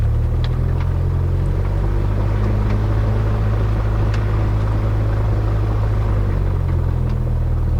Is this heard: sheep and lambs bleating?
no